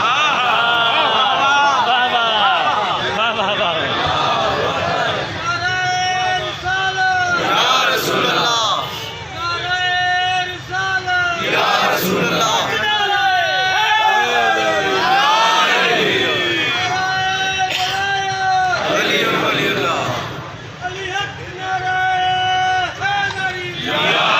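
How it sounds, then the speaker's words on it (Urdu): A large crowd shouts religious slogans in unison at a Chehlam gathering in an imam bargah, loud, continuous chanting and cheering waves rolling on and off throughout. "انہوں نے بہت سارے نعرے لگا دیے"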